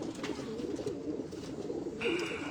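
Pigeons coo steadily close by, soft throaty warbling running through the whole stretch, with a brighter tone rising near the end.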